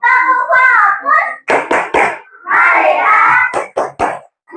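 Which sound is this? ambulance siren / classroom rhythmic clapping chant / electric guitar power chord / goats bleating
classroom rhythmic clapping chant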